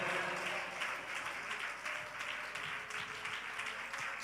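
A church congregation claps together in praise during an evening worship meeting, a dense, steady wash of many hands that keeps up without pause for the whole stretch, close and fairly loud.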